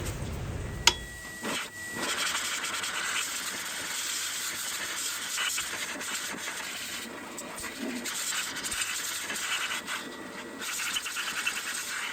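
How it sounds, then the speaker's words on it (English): Compressed air blasts dust out of the clutch housing of a Polaris Sportsman 550/850/1000 ATV, a steady close hiss of airflow lasting throughout with a sharp pop near the start. "If you've got an airline or an air compressor, just blow it out."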